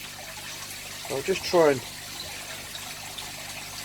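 Pet koi fish splash briefly in their water in the background, a short watery burst heard under a man's nearby speech.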